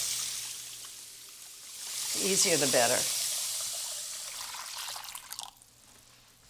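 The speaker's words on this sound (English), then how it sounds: "I just use really hot tap water" Hot tap water runs into a pan as a water bath for custard, a brief splashing pour rising in the middle under a steady hiss, with someone speaking briefly.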